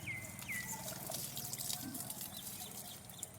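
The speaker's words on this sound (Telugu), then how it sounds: "మొత్తం ఒక రౌండ్ నీళ్ళు పోద్దాం" Water poured from a mug onto soil around newly planted trees, a soft trickling and splashing close by, with birds chirping and a rooster faintly in the background.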